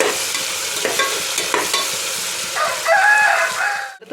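Green chilies sauté in a hot pan, a steady crackling sizzle with scraping stirs of a spatula throughout, loud and close, with a sharper burst of frying toward the end before it cuts off.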